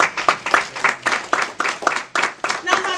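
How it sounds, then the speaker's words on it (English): A church congregation claps together in a quick, regular series of sharp bursts, loud and close, with a voice running beneath the clapping. "Clap for Jesus."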